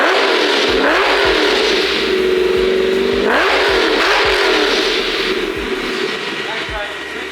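Powerful 4000-horsepower LS car engine revving hard and close, rising and falling in pitch through gear changes with a deep, rumbling, throaty roar.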